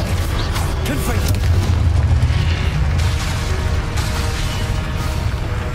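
A Confringo spell blast in Hogwarts Legacy combat booms loudly and continuously, a dense explosive rumble lasting several seconds without pause.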